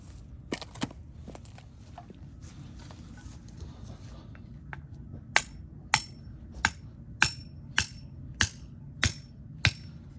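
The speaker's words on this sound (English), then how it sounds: "overall this thing split really good" Cold Steel Trail Boss axe striking and splitting wood outdoors, scattered sharp knocks at first, then a steady series of about eight crisp, evenly spaced blows, fairly close with no talking.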